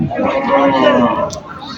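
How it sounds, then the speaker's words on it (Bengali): A young calf at a busy village cattle market in northern Bangladesh lets out one long, close moo over a low murmur of the crowd. "ছোট বাছুর গরু এগুলা"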